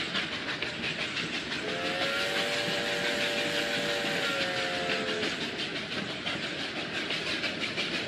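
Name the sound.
train arriving at Gyeongseong station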